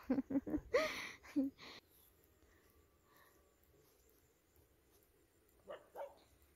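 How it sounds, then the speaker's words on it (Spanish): A dog barks a few quick times at the start, then it goes quiet before two more distant yelps near the end. "Creo que ahí hay un perro que casi nos corrió"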